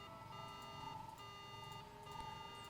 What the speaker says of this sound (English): Managed to spike into the computer and set off the alarm to get Zulon to come out and see us.